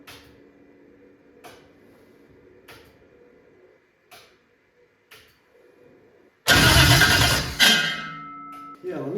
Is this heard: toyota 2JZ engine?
yes